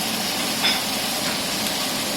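Steak sizzling in a pan on a stovetop for homemade Philly cheesesteak subs, a steady, even frying hiss with a faint clink partway through, no talking.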